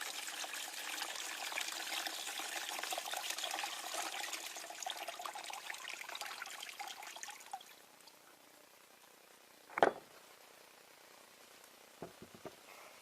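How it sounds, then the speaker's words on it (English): Acid poured out of a car battery being reconditioned, a steady liquid splash and trickle for about eight seconds that tapers off, followed by a sharp knock and a few faint clicks. "Very carefully lift it up, hold it away, and pour the acid out."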